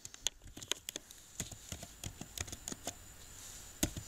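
Light, irregular clicks of typing on a computer keyboard while entering a day's name into an Excel spreadsheet, quick separate keystrokes with short pauses, soft and close, no speech.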